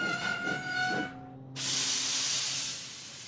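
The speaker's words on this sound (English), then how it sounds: "Thomas's brakes sound like this," Thomas the steam engine applies the brakes in a children's train story: a whistle-like tone with rumbling fades, then after a brief gap a loud, sustained broadband steam hiss follows, alone and close.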